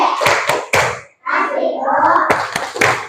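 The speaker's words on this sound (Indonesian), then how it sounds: "Coba kita kasih tepuk wow untuk Inara" A primary school class does a clapping chant for a pupil: a few sharp group claps, then voices chanting together, then more crisp claps, close and lively.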